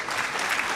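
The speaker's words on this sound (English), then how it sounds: "I'll give you a round of applause." A round of applause from a livestream audience at a guitar-maker's interview and Q&A, steady dense clapping filling the whole short stretch with no voices.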